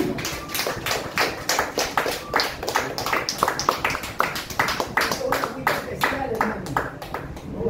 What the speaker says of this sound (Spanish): Den aplauso al Señor.